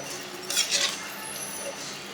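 A spoon scraping and clinking against a pot while a cabbage pulao rice mixture is stirred, with a couple of brief louder scrapes amid soft background noise.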